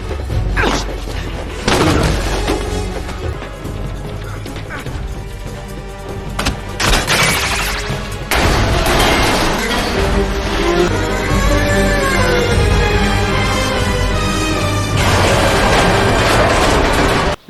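A James Bond action film scene with Daniel Craig fills the clip with loud explosions, booms and rapid gunfire bursts, along with mechanical crashes and a dense layered score throughout.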